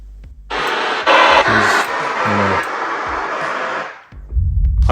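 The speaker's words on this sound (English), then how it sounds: "Level calibration, again, you're gonna hear some test tones." An Onkyo TX-NR6050 AV receiver plays level calibration test tones: loud, steady hiss-like noise bursts run back to back and shift in character from one speaker to the next, followed by a short pause and another burst starting.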